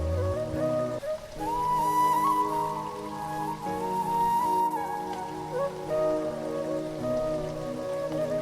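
Rain drips steadily from the roof of a run-down house in a steady wet patter, with sustained tonal music running underneath throughout.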